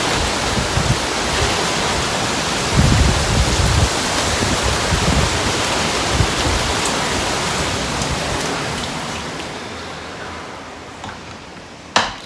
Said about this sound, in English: It's just a lot of very violent winds and some rain.